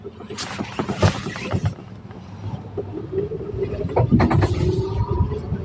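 A 2018 Ligier Pulse electric delivery vehicle pulls away on a city street, giving a low, steady rolling rumble with a few knocks and bumps early on, rising slightly as it gets going.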